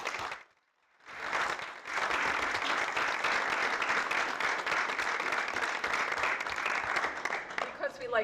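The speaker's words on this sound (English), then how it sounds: "would appreciate if folks would just join me in giving him a round of applause" Sustained applause from the audience at a school district annual meeting, rising after a brief pause into an even, dense wash of clapping that holds for several seconds, with faint voices near the end.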